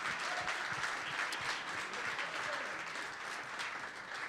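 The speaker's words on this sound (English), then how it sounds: "So give them a round of applause, please, for giving back." An audience at a Green Bay Packers Clubhouse Live show applauds in a thick, continuous wash of clapping, loud and sustained throughout, with a few sharper claps standing out.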